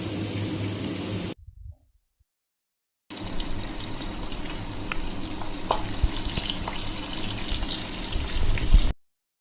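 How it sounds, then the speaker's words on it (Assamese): Pork pieces with meat masala frying in a pan, a loud close sizzle that cuts out briefly, then returns with scraping stirs and a rising hiss near the end. "মাংসখিনি ভালদৰে ভাজি থাকিম।"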